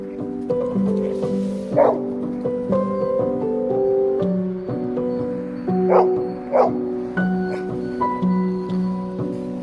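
A dog barks and yips repeatedly in a small indoor space, loud and close, with whining tones between the sharper bursts.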